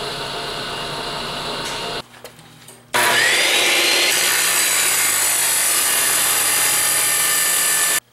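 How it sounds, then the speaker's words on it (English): A 5/8 inch hole is drilled into metal for a homemade mine cart, a loud steady machine whine and grinding that stops briefly, then resumes with a rising pitch and runs on without talk. "now I'll drill a 5/8 hole in it"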